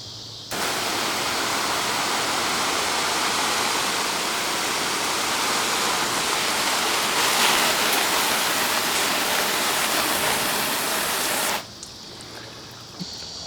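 Water poured in a steady heavy splashing stream onto a Coverking ballistic nylon car seat cover, a loud continuous rush lasting about eleven seconds before stopping abruptly.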